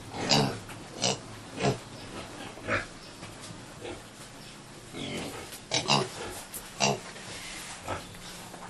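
Pigs on a pig farm grunting and oinking close by in short, repeated bursts about every half second to a second, with a couple of longer squeals in between and a quiet background.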